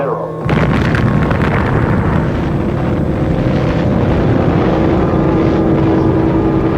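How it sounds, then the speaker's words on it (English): The first atomic bomb detonates with a sudden massive blast that swells into a sustained roaring rumble, loud and unbroken for several seconds. "the first atomic bomb was detonated"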